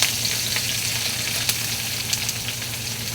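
Pork adobo with banana blossom and coconut milk sizzling in a pan, a loud continuous close-up hiss with a few faint stirring taps.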